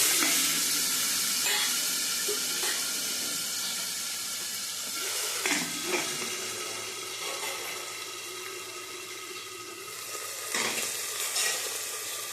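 Steady frying sizzle as potatoes are tempered in hot oil for a Gujarati potato curry, with occasional clinks and stirring scrapes over the continuous hiss of oil.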